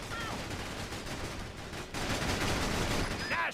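Dense, continuous gunfire from a GameCube video game, a loud unbroken barrage of overlapping shots that swells slightly partway through.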